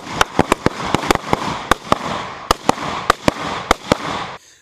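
Rapid gunfire from a Spike's Tactical ST Compressor short-barreled rifle in 5.56: about fifteen sharp, loud, close reports in quick irregular succession, ending abruptly.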